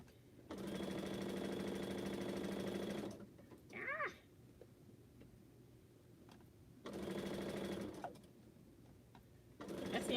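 A sewing machine stitches pieced quilt blocks in two steady runs of about three seconds each, separated by a pause, with a short high squeak and light handling noises in the gap.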